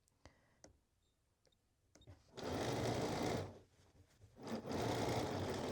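After a few sharp clicks, a sewing machine stitches a dress seam in two close, steady bursts, with a brief pause between them.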